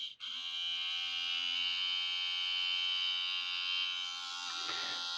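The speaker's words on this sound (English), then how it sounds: "So that noise is the noise of the mounted motor only." A Trix A4 Mallard model locomotive's mounted motor runs with no gears engaged, giving a steady close electric whine and buzz that holds unbroken, with a brief handling rustle near the end.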